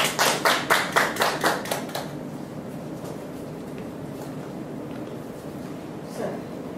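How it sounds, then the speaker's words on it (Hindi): Rhythmic group clapping at a Hindi-language Christian worship service welcoming Jesus: about a dozen quick, evenly spaced claps, then a steady murmur of room noise. "हम स्तुति आराधना के लिए प्रभु यीशु का ताली से स्वागत करते हैं।"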